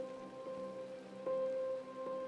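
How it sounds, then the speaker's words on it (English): Steady rain pours down in a Minecraft world, a loud, dense hiss of falling drops with a constant tonal hum of game music running underneath and no talking. "I want to sleep through the rain. It is so loud and deafening."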